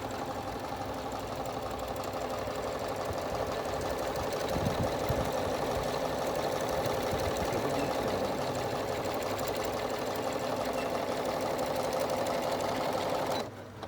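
A Janome 7700 embroidery sewing machine stitching a design, a rapid, steady mechanical whirring and needle chatter that runs continuously at close range with no talking.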